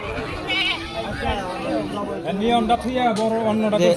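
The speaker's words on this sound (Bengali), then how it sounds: "এখানে বড় বড় জাতের ছাগল রয়েছে" Several goats bleat repeatedly amid a crowd's murmur and nearby voices at a village livestock market, the calls overlapping and fairly loud.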